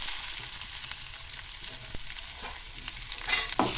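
Garlic and onion fry in oil in a Goan home kitchen, giving a steady close sizzle with faint clinks and stirring scrapes and no voices.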